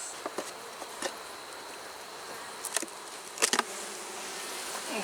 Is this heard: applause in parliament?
no